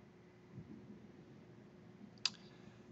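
A computer mouse gives one sharp, close click against a quiet, faintly humming room.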